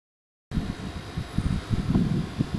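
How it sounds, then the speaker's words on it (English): A hair dryer starts abruptly with a steady blowing whoosh, running continuously at close range with a low fluttering rumble underneath, warming vinyl lettering on a pressure washing truck. "So I got to get my hair dryer to warm it up more."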